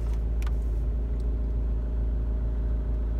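A Honda Civic 2.2 i-CTDi diesel engine idles with a steady, deep low rumble, constant and close, with a couple of brief faint clicks above it.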